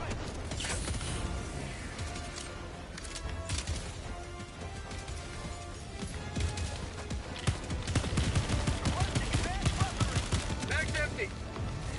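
Dense gunfire from the shooter game Helldivers 2, rapid bursts and shots with crashes and mechanical clatter running continuously and loudly, with some voice under the action.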